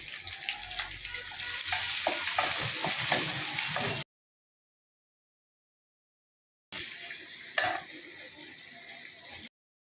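Onion frying in a pan with a steady hiss and occasional stirring scrapes, heard in two stretches separated by a few seconds of silence, with no talking.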